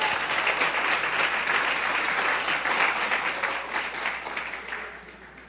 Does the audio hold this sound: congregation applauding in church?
yes